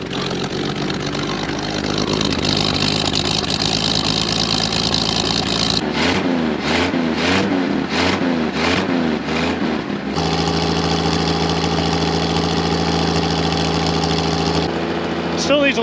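A double dually mutt truck's engine runs close up, rumbling at idle, then a burst of rhythmic sharp revving in the middle before settling back to a steady drone.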